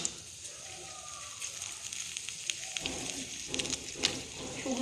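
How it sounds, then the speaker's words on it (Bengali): Whole garam masala spices, with bay leaves and dried Kashmiri red chillies, frying in oil in a kadai, giving a steady close crackling sizzle with sharper pops near the end. "কড়াতে কিছু গোটা গরম মশলা ভেজে নেব।"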